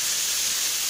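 Cluster beans tipped into a hot pan of sautéed onions for a Tamil-style poriyal with groundnuts, giving a steady, loud, close sizzle that holds unbroken for a moment with no voices.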